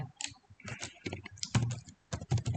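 Quick, close clicks of a computer keyboard come in irregular bursts with short gaps as a command is typed into PTCAD.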